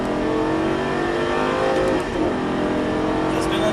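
A car accelerates hard at full throttle on a driving track, its engine droning loud and steady from up close with a slight shift midway, no voices over it.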